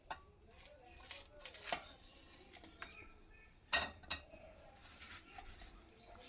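Fruit pieces such as guava, apple, banana and kinnow being dropped into a bowl and mixed for a fruit chaat, giving scattered clinks and soft knocks of utensils against dishware, fairly quiet and close, with pauses between.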